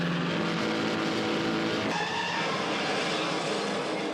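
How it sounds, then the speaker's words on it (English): A car crash scene from a James Bond film: a loud, dense roar of a car engine with squealing tires, building up and then shifting abruptly near the middle into a sustained noisy rush. "That's the one thing they do love in Bond films, and that is car crashes."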